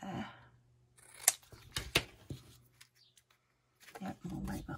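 Scissors snip through a Tim Holtz paper scrap for junk journal envelope note pads, a couple of sharp close cuts amid soft paper handling and low rustling, with no voices.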